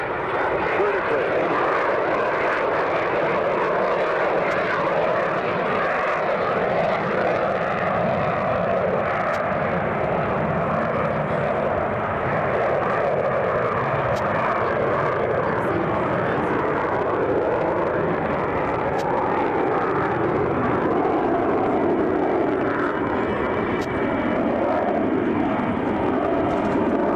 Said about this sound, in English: he'll light the afterburners and climb out vertically